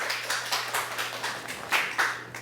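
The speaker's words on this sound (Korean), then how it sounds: "박수." A lecture audience applauds in a steady run of claps, moderately loud and fairly close, with a low steady hum underneath and no talking.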